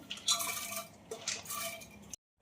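Washed chana dal being tipped into a pressure cooker, with a couple of soft rattling, rustling pours and faint clinks of metal, close and fairly quiet, ending in a short metallic knock.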